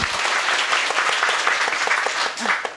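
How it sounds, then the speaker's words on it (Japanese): An audience at a lecture hall talk applauds throughout, a dense, steady wash of many hands clapping with no voices over it. "最後の方に皆さん拍手お願いします"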